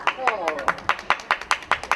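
An audience claps at a mock school inauguration, a brisk run of distinct, evenly spaced claps close by, with a voice speaking over the start.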